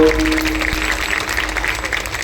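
An audience at a kirtan in Kashi claps for the pakhawaj player Maruti Maharaj Puri, steady dense applause from a nearby crowd.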